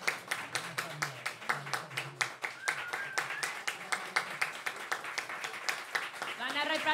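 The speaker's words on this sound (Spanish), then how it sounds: "aplauso a los finalistas" Rhythmic hand clapping from a small group honoring the finalists of an Argentine piano competition semifinal, steady and fairly quiet, with a few voices murmuring over it toward the end.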